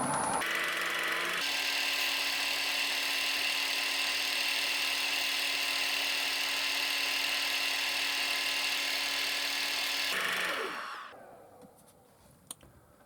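A wood lathe spins a four-ring goblet while the ring, coated in CA and friction polish, is buffed: a steady high electric whine holds for about ten seconds, then winds down to quiet with a small click.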